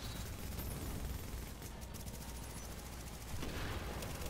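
Gunfire in the video game The Division, heard as dense, continuous rapid shots that blend into an unbroken rattling barrage, evenly loud from start to finish, with no talk over it.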